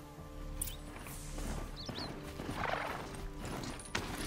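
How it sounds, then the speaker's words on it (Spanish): Horse hooves clip-clopping at a gallop in the video game Horizon Zero Dawn, with a whinny partway through, a steady close rhythm over game music and ambience. "Ay, te sigo en mi caballo."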